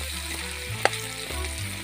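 Close, steady sizzling of potatoes and bitter gourd frying in oil in a kadai over a wood fire, with one sharp utensil tap in the middle and no talking.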